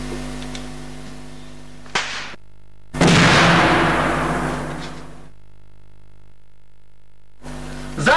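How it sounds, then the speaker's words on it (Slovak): Grenades detonate during a military throwing drill: a sharp short bang, then a heavy blast that booms and rolls off over about two seconds before silence, with another burst starting at the very end. "Granát pripraviť. Major Lamer, k hodu pripravený."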